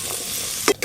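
Jackfruit seeds stirred in a frying pan with oil, soft steady sizzle, then two quick scraping clacks of a spatula near the end, close and brief.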